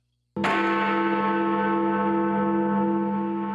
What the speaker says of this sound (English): the bell was upon the stroke of 1